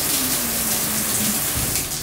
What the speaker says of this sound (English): ask if I confirm that the rain head turned on